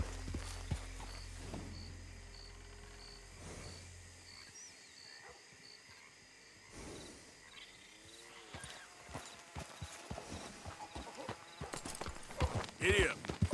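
Horse hooves clip-clop in Red Dead Redemption 2, growing louder and more distinct toward the end amid outdoor ambience and wildlife calls, with a voice speaking over it.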